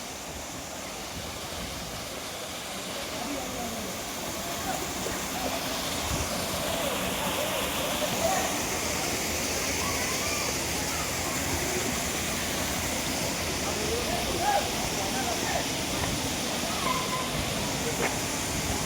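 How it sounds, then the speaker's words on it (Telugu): Dara Mattam waterfall, at its highest last stage near Narsipatnam in forested hill country, pours with a steady broad rush of falling water, moderately distant and continuous without a break. "ధారమఠం జలపాతంలోనే highest last stage highest water fall ఉన్నది"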